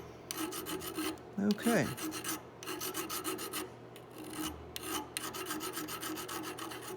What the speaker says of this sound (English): I've got a million files, but probably not the one I need. Here, this will work. It should allow us to get into that radius there.